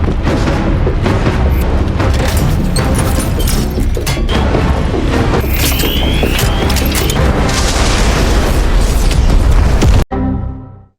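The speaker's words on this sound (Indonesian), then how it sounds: "banyak sekali granat yang jatuh dari robot tersebut" Grenades dropped from a robot blow up in a sustained barrage of loud, dense booms and rumbling blasts lasting about ten seconds, then cut off abruptly.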